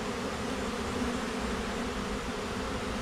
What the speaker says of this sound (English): and also all these bees fanning.